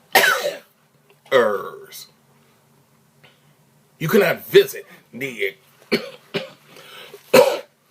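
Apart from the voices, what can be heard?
a man coughing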